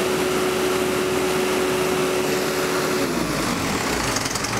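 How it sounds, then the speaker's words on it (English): Diesel engine on an emissions test settling from high revs back down to idle, a loud steady whine and roar that shifts and drops partway through, heard close with no voices. "we let the engine go back to idle, cool off"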